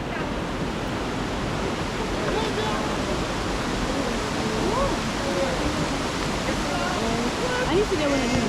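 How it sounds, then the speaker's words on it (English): River water in Jamaica rushes loud and close in a dense, unbroken roar, with voices talking faintly underneath. "River water, man."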